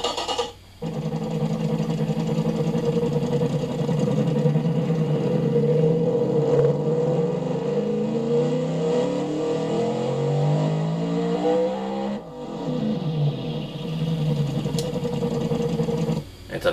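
A 1973 Chevrolet Corvette in the Automation game, with a 9.8-liter engine, dual straight-through exhaust and a 7-speed manual, revs loudly. The pitch climbs in repeated sweeping pulls, with brief drops between them.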